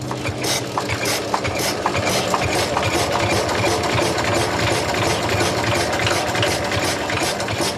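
Stationary farm engine with a crank handle, in a wartime setting, driving a milking machine's vacuum pump: a loud, steady chugging idle with a fast, even mechanical rhythm, running alone throughout.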